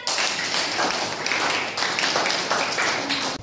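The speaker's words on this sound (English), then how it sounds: "Clap for her." Classmates clapping for a student during a geography lesson, a loud burst of many hands with irregular claps that fades abruptly at the end.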